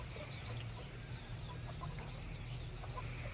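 A Darag native chicken crossed with a Rhode Island Red gives faint, sparse clucks over a steady low hum, quiet and somewhat distant, with no voices.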